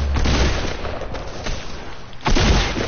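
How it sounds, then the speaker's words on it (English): Gunfire in Fortnite punches through a wall: a run of sharp, close shots, then a louder, heavier blast near the end. "Bro, this dude just shot through my wall"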